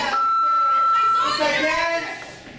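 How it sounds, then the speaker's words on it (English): A steady electronic beep tone from a museum audio guide holds for about a second over background chatter and voices, then fades as talking continues. "When you hear this beep sound,"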